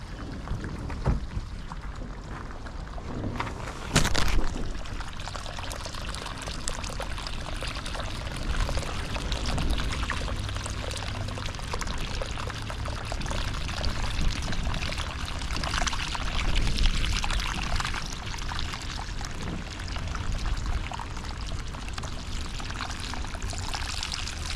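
Water pours steadily out of a swamped boat on the River Thames as it is emptied, a continuous splashing, gurgling stream close by with a brief heavier gush early on, no voices.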